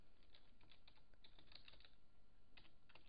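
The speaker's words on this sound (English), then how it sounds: "Now you want to go into your internet browser and type in" Typing on a computer keyboard while entering a search in a web browser: quick bursts of light clicking keystrokes, close and fairly faint, with a short pause before a final few taps.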